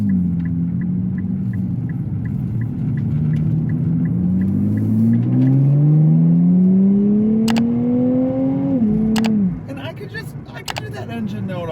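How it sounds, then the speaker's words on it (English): A 2024 Nissan Z Nismo engine revs up in rising sweeps, pitch climbing and dropping between shifts before settling to a lower rumble, loud and close; no one speaks over it. "Engine note all day"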